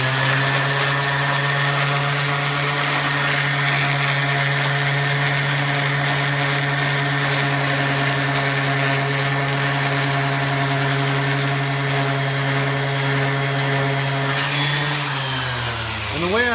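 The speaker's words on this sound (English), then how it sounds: "So this is sanding from stage 1." A power sander fitted with sandpaper works across wood, giving a steady, loud motor whine and hum that holds unchanged before winding down near the end.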